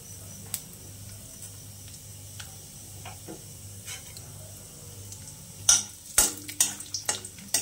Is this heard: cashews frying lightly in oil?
yes